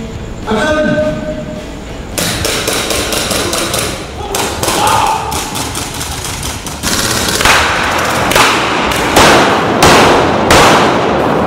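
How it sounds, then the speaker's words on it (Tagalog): Live gunfire on a film set during an action scene cracks in loud, rapid bursts of sharp shots, dense and close, with voices shouting underneath. "Yung putok ng baril. Live guns."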